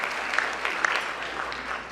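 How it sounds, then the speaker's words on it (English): Audience applause for volunteer helpers at a live mind-reading stage show, steady dense clapping throughout with a few sharper individual claps standing out. "Give them a big round of applause."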